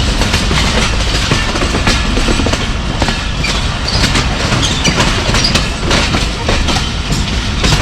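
Jaffar Express passenger train running on rails through Punjab, a steady loud rumble with rhythmic clickety-clack of wheels over rail joints throughout, heard from aboard the moving train.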